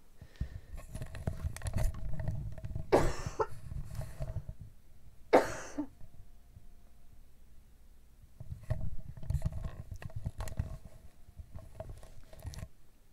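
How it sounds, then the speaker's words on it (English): Two harsh, close coughs break up a stretch of rustling and scraping noise, with quieter shuffling continuing afterward. "I have to cough."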